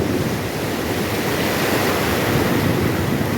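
Powerful ocean surf breaks on the beach at Puri, a continuous heavy roar of crashing waves mixed with wind buffeting the microphone, loud and close with no voices.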